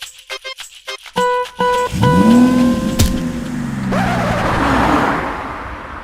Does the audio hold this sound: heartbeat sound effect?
no